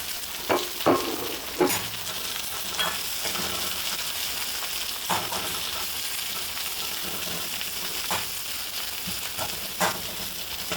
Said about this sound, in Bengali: দিয়ে দিলাম পেঁয়াজ কুচি আর নিয়ে নিয়েছি কাঁচা পাকা চারটে কাঁচামরিচ এটাকেও আমি এর মধ্যে ভেজে নেবো